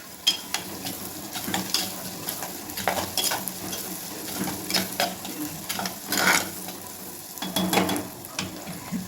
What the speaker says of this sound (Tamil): வெங்காயம் வதங்கிடுச்சுன்னு பார்ப்போம், எல்லாம் வதங்கணும்.